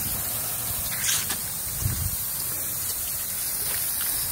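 Lawn sprinklers turned up too strong, spraying water hard in a steady broadband hiss with a few brief louder bursts of spray, close by and without talk.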